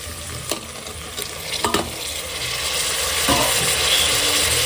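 Chopped tomatoes fry in a pan that already holds softened ingredients for mutton nalli kurma, with a loud, close, steady sizzle broken by a few sharp clicks of a spoon stirring.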